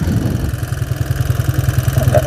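A two-stroke motorcycle engine with a 62mm PWK carburetor being tuned idles close by in a rapid, steady low-pitched putter that rises a little toward the end, with no talk.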